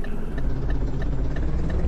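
A truck engine sound mod in Euro Truck Simulator 2 hums in a low, steady idle-like drone with a faint regular ticking pulse, close and continuous, with no talking.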